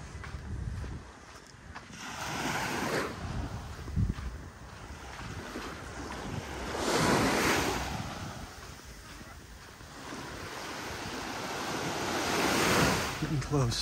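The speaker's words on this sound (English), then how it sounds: "Overall look at the beach at Delnor-Wiggins." Surf washing onto the beach at Delnor-Wiggins Pass State Park after Hurricane Ian, heard as broad, steady wave wash that swells and recedes in slow surges, with wind buffeting the microphone throughout.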